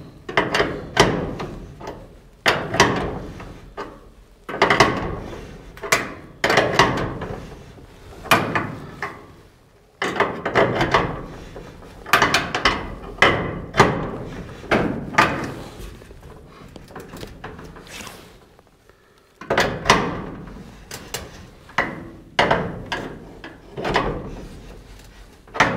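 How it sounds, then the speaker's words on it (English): Wrench tightening the hardware of a sliding door on a pole barn, giving repeated clanking and ratcheting bursts in irregular clusters, close and fairly loud, with no talking. "Now we're going to use the wrench."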